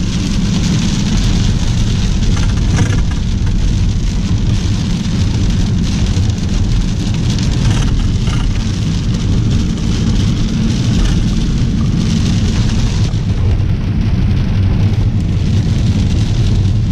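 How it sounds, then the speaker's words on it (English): Heavy rain drums loudly and steadily on surfaces, a dense, unbroken hiss and patter that lasts the whole time with no speech. "it's really raining bad out here today."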